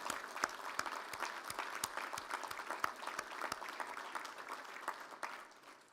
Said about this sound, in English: join me in giving them a round of applause to say thank you for those who've helped you achieve today's outcome